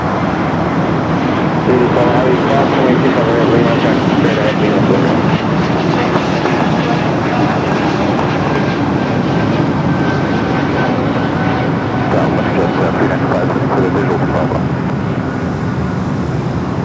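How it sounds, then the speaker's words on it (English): A Porter Airlines Embraer E2 jet rolls down runway 25 right at LAX, its engines a loud, steady broadband roar that holds without a break. Other airport traffic noise mixes in underneath. "The E2 now rolling down to 25 right."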